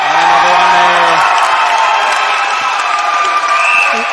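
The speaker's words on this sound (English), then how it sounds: "The ACT crowd is up and about." Spectators cheer and shout at an under-17 men's football quarter final between the ACT and Victoria Reserves, a dense, loud, continuous crowd roar throughout with a commentator's voice over it.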